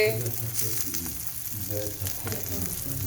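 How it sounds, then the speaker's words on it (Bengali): An egg fries in a pan until browned, a steady close sizzle with light crackling and occasional shifts as it is moved around. "ডিমটা এরকম লাল লাল করে ভাজতে হবে"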